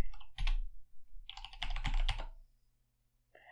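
Someone types a command on a computer keyboard in quick, close, crisp key clicks. The clicks come in two bursts, and a short pause of silence follows at the end.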